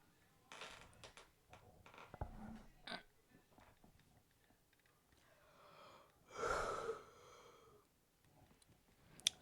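A person recording commentary over a Civilization-style strategy game lets out a single long, breathy yawn. It is faint and close, set among small breaths and clicks in an otherwise quiet room.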